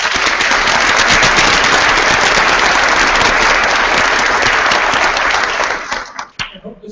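Audience applause after a presentation at a leadership retreat, a loud, dense burst of many hands clapping that holds steady, then thins out and stops near the end.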